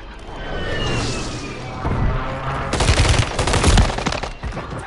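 Video game gunfire rings out in several bursts of rapid shots, loud and close, the heaviest volleys in the second half, with a whining tone early on.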